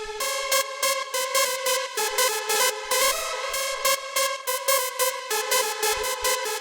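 Fast rave techno drum loop run through a saturator and drum bus, dense rapid hi-hats and snappy hits in a steady driving pattern, bright and fat, playing alone without voices.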